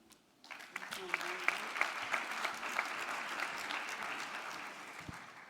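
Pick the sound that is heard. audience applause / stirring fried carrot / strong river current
audience applause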